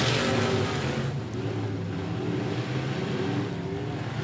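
Race cars at the 105 Speedway roar together off turn 4 at the start of heat race number 2, a dense, loud wall of engine noise sustained throughout with no talk.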